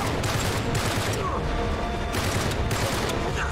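Sniper fire in the Uncharted 3 video game rings out amid a dense, continuous wash of battle noise, with a few sharper reports standing out from the steady roar.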